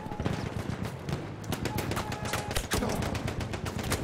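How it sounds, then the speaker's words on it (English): Rapid bursts of gunfire in the video game Battlefield 1, dense overlapping shots and machine-gun rattles, loud and continuous throughout, with game noise mixed in. "Who is shooting at me?"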